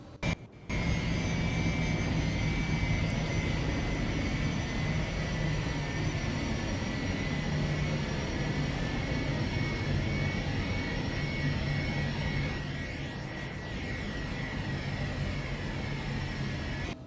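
A steady Legacy 650 jet engine roar in the X-Plane 12 flight simulator drones on without a break, loud and even, with a high whine layered over the deep rumble.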